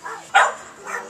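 Outdoors during a broccoli harvest, dogs let out a single short bark, then softer yips, at moderate distance with no speech over them.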